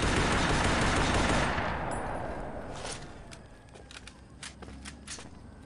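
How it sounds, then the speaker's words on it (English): Gunfire in the video game Combat Task Force 121: a dense burst of rapid automatic fire opens loud, then fades into a string of sharp, scattered single shots further off. "Warning shots."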